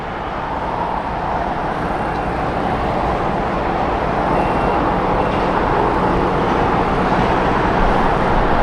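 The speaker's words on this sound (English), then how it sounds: "Got Delta Airlines taking off right here on the south side for Orlando" A broad, steady roar of jet engines builds slightly in loudness as a Delta airliner powers up for takeoff at a distance at Los Angeles International Airport.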